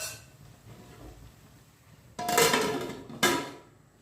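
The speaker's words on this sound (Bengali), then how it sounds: "এখানে আমি অল্প আঁচে দিয়ে ঢাকনা ঢেকে রেখে দেব" A metal lid settles onto a cooking pot of half-boiled Chinese-style vegetables with cauliflower over a low flame, two close clanks about a second apart above quiet kitchen hum.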